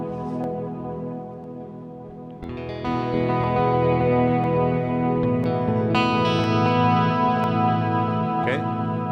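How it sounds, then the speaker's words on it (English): A sustained electric guitar chord through a VFE Klein Bottle stereo pedal with only the delay on rings out with repeating echoes trailing behind it, a second strum around midway building a thicker, layered wash of repeats. "So here I only have the delay on."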